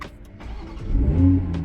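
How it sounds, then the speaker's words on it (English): A 2023 Toyota Supra A91-MT with manual transmission starting up: brief starter whir, then the engine catches with a low rumble that swells and settles into a strong idle, close and loud with no talk. "we're gonna go ahead and hit the start-stop engine"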